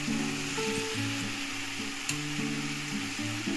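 Onions and ginger garlic paste fry in a pan with a steady, dense sizzle, with a soft scrape near the middle; no one speaks.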